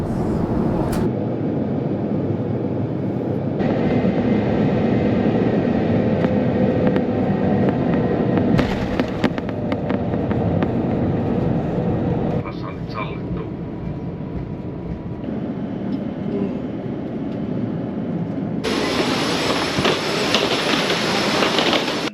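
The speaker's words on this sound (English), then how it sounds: "Now let's enjoy the scenes landing in Helsinki." A Finnair airliner landing in Helsinki, heard from the cabin as a loud continuous roar of engine and airflow whose tone shifts in stages, with a brighter, louder rush near the end.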